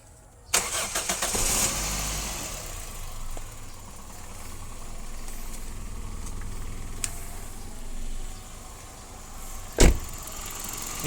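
A 2003 Toyota Vios G with a dusty engine bay cranks and fires up, a brief starter whir giving way to a steady, fairly quiet idle, with a sharp knock near the end.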